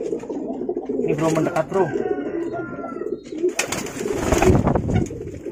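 Javanese pigeon (merpati jawa) cooing close by in soft repeated coos, mixed with someone talking casually over and between the calls.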